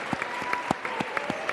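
Steady audience applause at a tech talk, a dense continuous clapping with a few sharper claps standing out, fairly close and loud.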